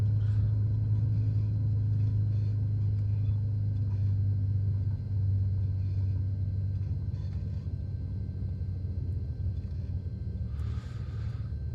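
A Trinidad TB21 light aircraft in Microsoft Flight Simulator rolls down the runway, its engine a steady low drone with a constant rumble of wheels, continuous and close throughout, with faint higher tones flickering above.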